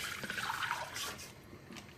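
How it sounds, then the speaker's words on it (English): Water poured into a cooking pot over spices for a cold remedy tea, a soft trickling splash heard close and fairly quiet, alone without talk. "Add water,"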